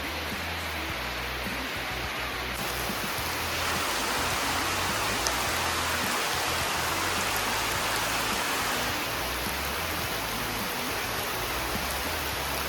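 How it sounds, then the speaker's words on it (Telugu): Steady rain falls in the Ananthagiri Hills, a dense continuous hiss of drops on surfaces that holds evenly throughout with no talk. "వర్షం రావాలనుకున్నాం, వర్షం వచ్చింది."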